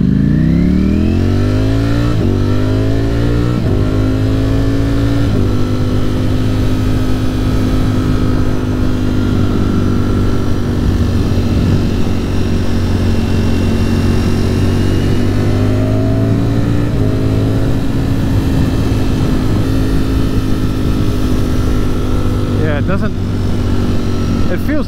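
A Ducati Streetfighter V4 motorcycle ridden in sport mode, its engine droning loud and close with rising and falling revs through gear changes, steady wind rush throughout and a rider talking over it.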